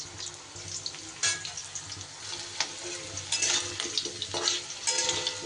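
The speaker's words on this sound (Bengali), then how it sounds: "দশ 15 সেকেন্ডের মতো আলুটা একটু নাড়াচাড়া করে নিই।" Potatoes fry in hot oil with a continuous sizzle, broken by several clattering stirs of a spoon against the pan.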